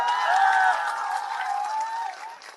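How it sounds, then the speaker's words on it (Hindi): A crowd at a political rally in Bihar applauds and cheers briefly, a loud burst that swells early and then tapers off, with a tonal voice or sound running underneath. "ताली बजा दिए, ताली बजा ली।"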